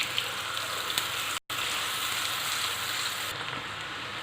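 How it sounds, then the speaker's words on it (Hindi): Finely chopped onions fry in a pan with a dense, even sizzle that holds steady throughout, broken only by one brief dropout, for a restaurant-style khara masala daal mash. "अब इसमें मैं ये प्याज बारीक कटी हुई शामिल कर रही हूँ। इसको हम थोड़ा सा सॉफ्ट करेंगे"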